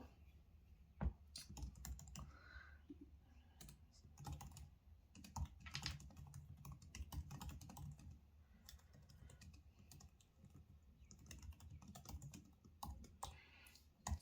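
Quiet, rapid clicking of MacBook Air (M2) laptop keys pressed in uneven bursts, close by, with no voices.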